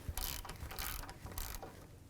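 Socket ratchet with a 15mm socket breaking free the brake caliper bracket mounting bolts on a 2001-2007 Volvo V70, heard as several close, loud bursts of metallic clicking and grinding in quick succession.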